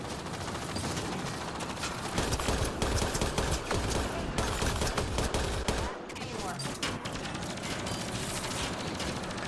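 Dense video game gunfire, with rapid automatic bursts and mechanical clatter running almost without a break, loud and close, a brief dip near the six-second mark, and faint voices underneath.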